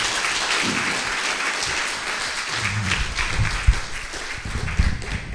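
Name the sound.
church congregation clapping loudly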